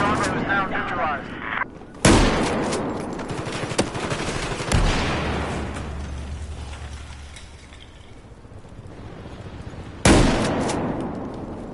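Heavy machine gun fire and booming explosions in the Battlefield 4 video game, loud and sustained with sharp blasts recurring, while radio-style voices speak over the battle.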